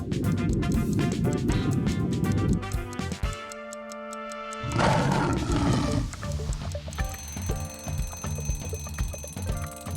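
Lion roars as a sound effect, loud and sustained over a musical backing with a steady ticking, filling the clip with a brief quieter break midway.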